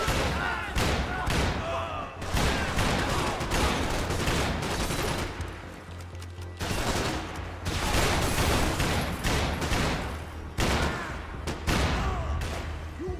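Bursts of gunfire in Max Payne 3, dense rapid volleys of shots and thumps coming in clusters with short gaps, loud and close, mixed with shouted voices.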